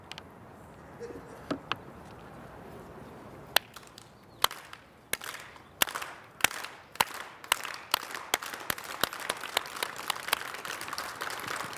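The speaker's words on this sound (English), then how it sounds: "And when you are ready, clap along with me." An audience claps along in a steady rhythm, starting with a few scattered claps and settling into regular, sharp, closely spaced beats that grow more unified and continue to the end.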